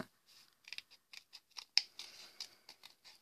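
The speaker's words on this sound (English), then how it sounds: "With a pair of scissors you can start to create" Scissors snip repeatedly through paper to cut grass shapes for an Easter bunny decoration, a quick series of crisp close cuts in an uneven rhythm with no voices.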